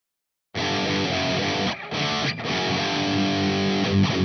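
Heavily distorted electric guitar plays a riff, cutting in sharply after a short silence and chugging loud and dense with a couple of brief breaks.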